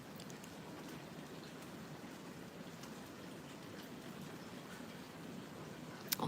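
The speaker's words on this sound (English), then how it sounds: "We do have rain going on this morning, and no sunrise." Steady morning rain falls continuously throughout, an even close wash of drops on surfaces with no voices, ending in a couple of sharper taps.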